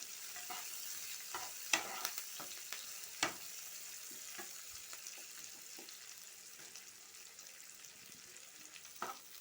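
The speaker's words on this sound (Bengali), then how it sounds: "দেখো এবার এমনি করে একটু ভাজা হচ্ছে" Chopped onion and capsicum frying in a pan, soft crackling sizzle with a few sharp stirring clicks of a spatula early on, fairly faint and steady.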